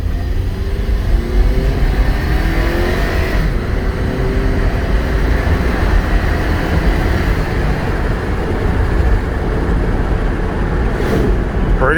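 Engine of a 2007 Honda CR-V with 132,000 miles, heard from inside the cabin on a dealer-auction test drive, a steady loud drone with road rumble that swells slightly as it revs.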